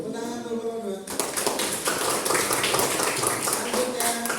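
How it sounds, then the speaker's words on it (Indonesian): Classroom students clapping for group 2 after a teacher's cue, a burst of brisk, fairly close applause starting after a second of talk and continuing steadily to the end. "tepuk tangan untuk kelompok 2"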